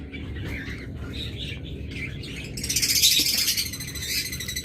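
Top-quality caged pet birds, breeding pairs offered for sale, chirp and squawk in overlapping bursts, with a denser flurry of high calls midway, over a steady low background hum.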